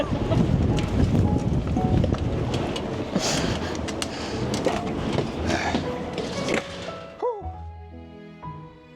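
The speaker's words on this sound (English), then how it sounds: "we're just gonna hunker down inside and watch the wind blow" Strong wind gusts buffeting a parked RV, a loud, continuous broadband roar with thumps and rattles against the body, easing off near the end, where a few faint squeaks and softer sounds remain.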